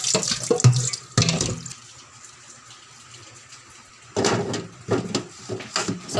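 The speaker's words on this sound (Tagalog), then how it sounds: "So, hugasan lang natin yung ating kamote, mga lalabs." A faucet runs while two large sweet potatoes are washed in a sink. Close splashing and gushing water comes in two bursts, with a quieter stretch between them and no talk.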